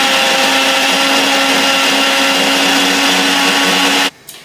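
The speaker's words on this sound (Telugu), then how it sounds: "చక్కగా మిక్సీ పట్టేసుకున్నాం." A mixer grinder blends watermelon with lemon, mint and honey: a loud, steady, close whirring roar that runs continuously, then cuts off abruptly just before the end.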